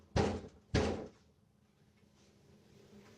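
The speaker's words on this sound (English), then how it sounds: "Okay, someone's knocking on the door." Two heavy knocks land on a door past midnight, close and loud with a short gap between them, followed by a quiet, faintly humming room.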